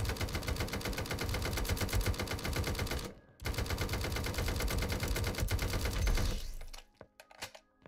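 Fast, rattling gunshots from a 1v1.LOL battle royale match, a near-constant string of rapid shots broken by a brief gap about three seconds in, then fading into a few scattered pops at the end.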